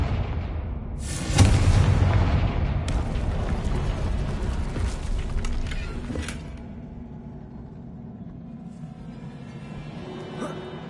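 Confringo spell blast in Hogwarts Legacy on PS5, a sudden heavy boom with a crackling burst that rolls into a long rumbling decay, followed by lighter debris rattles and a faint later thump.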